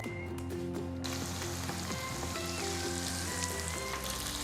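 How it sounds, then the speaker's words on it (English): Scotch bonnet peppers and cherry tomatoes sizzle and fry in a hot pan for spaghetti sauce, a dense continuous crackle with a faint stir or clatter at the start, close and steady, no voices. "Now we're going to cook the cherry tomatoes down till it becomes all broken down"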